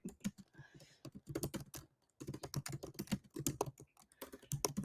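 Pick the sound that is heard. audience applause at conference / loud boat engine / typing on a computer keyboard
typing on a computer keyboard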